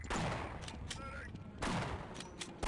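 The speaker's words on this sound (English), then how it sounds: "Stop shooting at me." Enemy gunfire in the game Half-Life, sharp bursts of shots in quick clusters, some rapid and rattling, close and fairly loud, with brief pauses between volleys.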